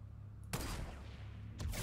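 Gunfire in the Fortnite video game: two loud, sharp blasts about a second apart, the first trailing off in a long rumbling tail, with no talk over them.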